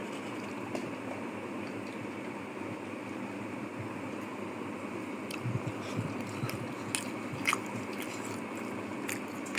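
Someone eats rice with fried red amaranth greens, with close, steady soft chewing and small crunches running through the whole stretch, plus a few sharper bites and clicks near the end.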